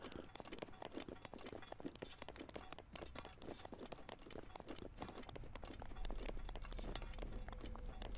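Horse hooves clip-clopping in the Zelda Breath of the Wild video game. The galloping hoofbeats are faint and rapid, running steadily with no talk.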